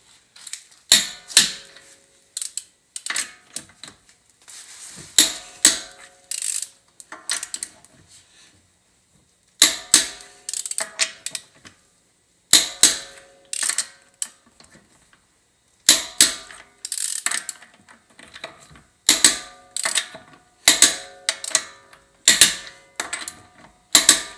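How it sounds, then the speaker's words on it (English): Ratcheting clicks from a torque wrench tightening lug nuts on a lowered Honda Civic Type-R FK8, arriving in short repeated bursts of sharp mechanical clicks with brief pauses between each nut, close and clear with no talking. "go ahead and torque your lugs to 94 foot-pounds"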